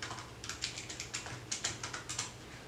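Flagpower computer keyboard typed on at a steady pace, with clicky, close keystrokes sounding alone against a quiet background.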